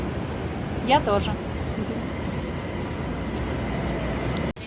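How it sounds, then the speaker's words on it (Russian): São Paulo metro train riding, a steady loud rumble of the carriage in motion with a brief metallic wheel squeal, while someone speaks briefly over it. "Мы в метро."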